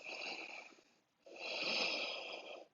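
Two long, raspy breaths drawn in during a vinyasa yoga flow, close and airy, separated by a short pause.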